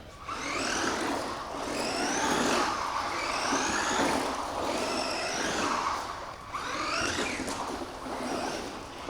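An FTX Surge RC car drives over dirty, dusty tarmac on wet, muddy tyres: a whining electric motor rises and falls in several passes, with gritty rolling noise, fairly loud and close.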